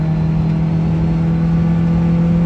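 A 25-year-old Subaru Sambar's small engine pulls steadily in 4th gear around 60 km/h, a continuous, loud, even drone with a low hum and road rumble, heard from inside the cab with no talking.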